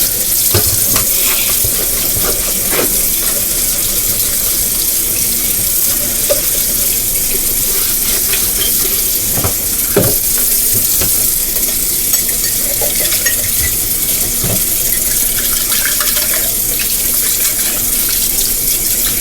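Hot water runs steadily from a tap into a tub for nearly twenty seconds, a loud continuous splashing rush with small knocks and clatters scattered through it and no voices.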